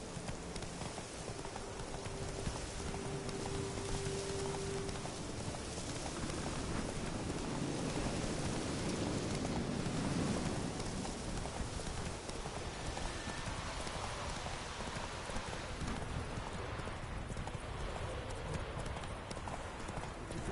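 A horse clip-clops at a steady rhythmic trot while being ridden in the video game Fallout 4, the hoofbeats continuous and moderately loud over a soft rain-like background wash.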